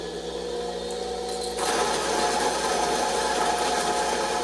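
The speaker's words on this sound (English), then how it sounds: "Let's go ahead and get the beans nice and ground up." A new coffee grinder starts up and grinds coffee beans for single dosing, a steady close whirring motor that rises into a louder, gritty grind partway through and keeps running.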